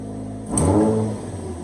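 An Infiniti G35 with its muffler removed and an exit pipe fitted gives a single short throttle blip from idle, a loud raspy exhaust swell that rises sharply and settles back to a low rumble, with no talking.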